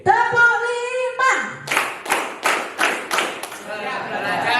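A school class claps a quick rhythmic pattern, five or six sharp beats after a teacher's speaking voice in Indonesian.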